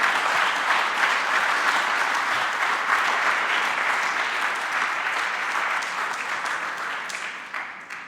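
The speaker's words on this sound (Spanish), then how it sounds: "Dale un aplauso grande al Señor." A congregation at a church service applauds with loud, dense clapping from many hands, sustained and steady before easing off at the close, with no talk over it.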